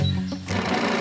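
A sewing machine stitching runs as a continuous, loud, close mechanical whir with rapid needle chatter throughout the short clip.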